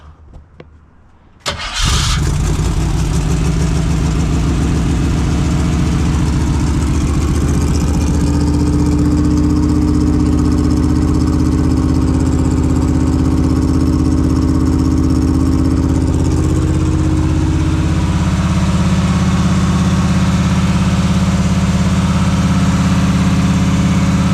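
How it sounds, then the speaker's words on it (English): A 1973 Jeep CJ engine catches after a brief crank and settles into a loud, steady idle that runs on for over twenty seconds, close up, with no talking. "we're gonna have to crank it a couple times"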